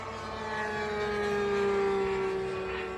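An RC model jet plane flies overhead at a plane show, giving a loud, steady, high-pitched whining scream with a sustained tone that swells slightly and then eases over a few seconds, with no talking.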